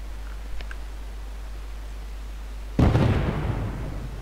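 A single explosion bursts in the video game Gem Miner 2, a sudden loud boom with a rumbling, crackling tail that fades over about a second after quiet.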